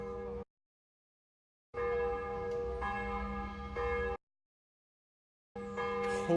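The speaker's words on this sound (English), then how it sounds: "I don't think I've ever heard church bells go off as long as this." Church bells ring loudly in two long peals separated by a silent gap, with a third peal starting near the end; no voices.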